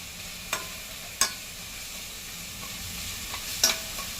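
Garlic fries in a pan for a traditional Makar Sankranti vegetable dish, with a continuous gentle sizzle and a few sharp clicks of a spoon against the pan.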